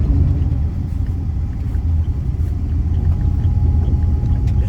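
LS-swapped car with a six-speed manual pulling away in second gear, a steady loud low engine rumble with road noise heard from inside the cabin, no talk.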